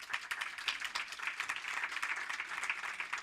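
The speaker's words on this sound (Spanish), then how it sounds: "Yo les pido un aplauso a todos nuestros." Steady applause from a conference audience at an inaugural lecture on Lourdes Grobet and a peasant and Indigenous theatre laboratory: dense, continuous clapping that fills the room, moderately loud and close, with no voices over it.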